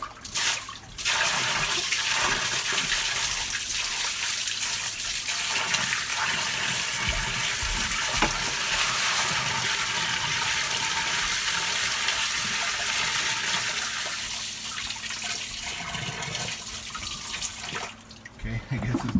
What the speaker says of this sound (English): Dump some water in here.